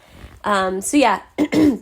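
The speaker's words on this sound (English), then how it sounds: "if I'm clearing my throat a little bit during this podcast" A person clears their throat several times in short, rough bursts, close and fairly loud.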